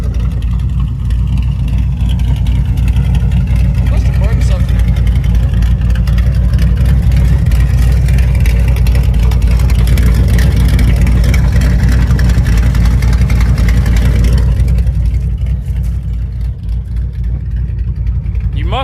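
A loud, throaty exhaust on an S10 truck rumbles steadily up close, building and holding its roar before easing off near the end.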